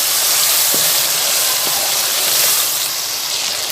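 Masala spice paste fries in oil in a pan, giving a loud, continuous broad sizzle and hiss with faint small pops throughout, and no talking.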